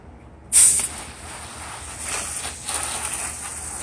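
Steady hiss of water spraying from a garden hose onto vinyl house siding starts abruptly and continues, with slight surges in intensity.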